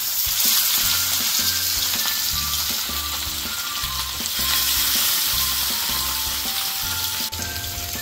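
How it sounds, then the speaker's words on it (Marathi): Stuffed mackerel, filled with green masala paste in Koli style, sizzles and crackles steadily in hot oil, a dense continuous frying hiss with a faint rhythmic pulsing underneath and no voices. "तेल तापलेलं आहे, त्यात फ्राय करून घेऊयात सगळे बांगडे"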